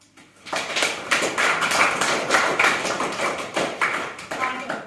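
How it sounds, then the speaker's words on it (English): Students in a classroom clap for themselves after a problem-based lesson, a dense burst of many hands applauding at once that runs steadily for several seconds, fairly close and loud. "So I would like you to all give yourself a clap."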